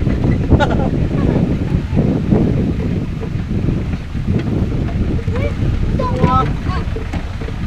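Rough, choppy sea surging at a shoreline, with wind buffeting the microphone and a steady churning wash of water; voices shout and talk over it now and then.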